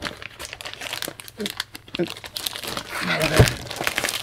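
A plastic Ziploc baggie holding a vintage VX4 electronic unit crinkles and rustles as it is opened, with irregular crackles building louder toward the end.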